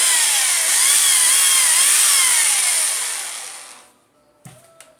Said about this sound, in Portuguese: Do martelete Makita